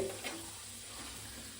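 Chana dal fries in hot oil in a pan, giving a steady, close sizzle with a short stirring scrape near the start.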